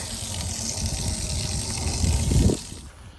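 Water runs and splashes to rinse pollen dust off an object outdoors, a close, steady gushing wash that swells briefly louder before stopping near the end.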